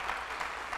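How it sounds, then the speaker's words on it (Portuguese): Brief burst of applause from a church congregation answering a preacher, a steady wash of clapping heard at a moderate distance with no voices over it. "Então dá um aplauso a Jesus aí."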